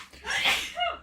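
A single sneeze bursts out nearby during a casual indoor livestream, loud and brief, followed by a short breathy trailing sound.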